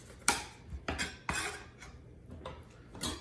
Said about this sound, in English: And now we'll slice. And we'll finish cutting our fruit.